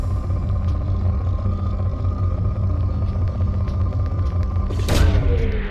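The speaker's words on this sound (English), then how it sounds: "Probe launched." Probe launching in Mass Effect, a sustained low rumbling hum that ends in a sudden loud whooshing boom near the end, close and alone.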